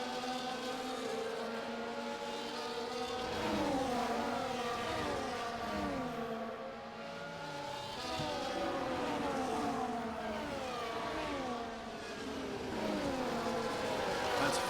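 A pack of race cars and a safety car in a racing video game at the Baku round, engines droning continuously with overlapping rising and falling pitches as several cars accelerate and shift, steady and fairly close, with no talking.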